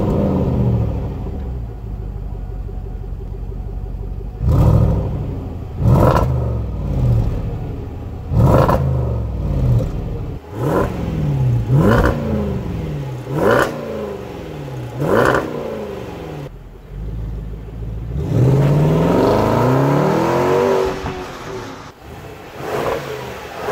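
A powerful supercharged 5.0 V8 exhaust of a Range Rover Sport P525 revs repeatedly in sharp bursts, rising and falling, then settles into a deep rumbling idle and a final long rev.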